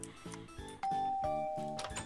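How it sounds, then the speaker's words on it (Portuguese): A doorbell chime in the video game Minecraft rings out clearly, a sustained bright tone over a repeating rhythmic game music backdrop, loud and close. "Agora sim, pode tocar a campainha."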